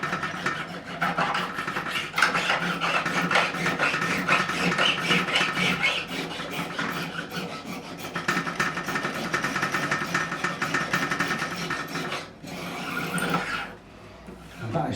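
Fret edges on a 1957 Hofner President guitar are smoothed during a refret, a continuous close rasping and rubbing with rapid strokes that pauses briefly near the end.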